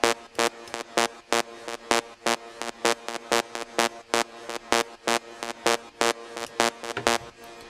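A bright, buzzy square-wave rave synth lead from SampleTank 4's Square Theme A plays a fast, punchy staccato pattern of evenly spaced stabs, loud and alone with no voice.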